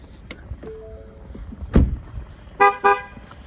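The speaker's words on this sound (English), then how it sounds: "It's gonna do that honking thing again." A car horn gives two short, loud honks near the end, after a faint thud and some quieter mechanical sounds.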